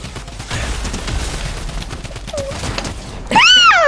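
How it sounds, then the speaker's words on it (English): Fortnite hand cannon gunfire amid game audio: steady rumbling background with scattered impacts, then a sharp, loud blast with a ringing, sweeping tail near the end. "Oh, hand cannon again."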